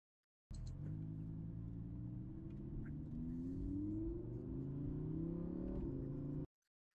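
A car engine roars on a dynamometer in one sustained six-second pull. The droning tone climbs gradually in pitch and stays loud and close, starting and cutting off abruptly, with no talking.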